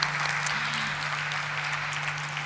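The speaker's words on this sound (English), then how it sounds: "can we have once again a huge round of applause for Diffusion Engineers Limited" Audience applause at a stock exchange listing ceremony for Diffusion Engineers Limited, a steady, even wash of clapping running the whole time with no one speaking over it.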